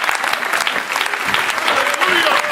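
An audience at a church service with a prophet claps steadily and loudly throughout, a dense rhythmic patter of many hands, with voices mixed into the crowd noise.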